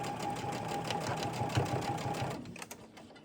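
A sewing machine stitches a quilt block for a winter table runner, a fast even whir with a steady hum for a couple of seconds, then stops and a few handling clicks follow.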